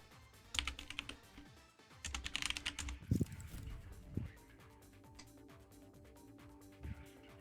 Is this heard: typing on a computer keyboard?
yes